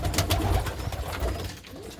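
Pigeons kept in a wooden-boarded loft coo and rustle close by, a steady busy flock sound with no talk.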